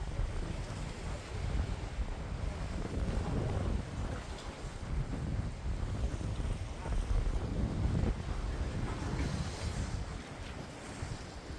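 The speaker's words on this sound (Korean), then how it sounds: "바람이 많이 불어서요" Strong wind blows at sea during a boat fishing trip, a continuous loud roar with heavy buffeting on the microphone and washing waves underneath, steady for the whole stretch without speech.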